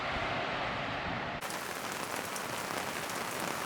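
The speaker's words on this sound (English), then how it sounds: "Got Gordon doing dinner in the rain." Heavy rain pours steadily at a cold campsite in Tasmania during an outdoor dinner, a dense, loud hiss that shifts briefly partway through as the rain drums on a nearby surface.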